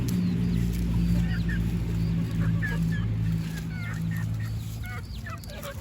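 Chickens cluck and chirp repeatedly on a farm, scattered calls close by over a steady low background hum, with no talking.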